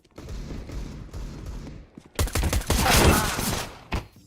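Rapid bursts of gunfire from the Counter-Strike video game, loud rattling volleys following a quieter stretch of game sound.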